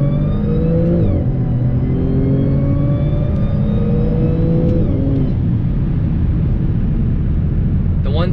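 A supercharged Audi S4 rolls on the throttle from second gear, with a steady loud engine rumble and rising blower whine interrupted by a few brief pitch drops as it pulls hard.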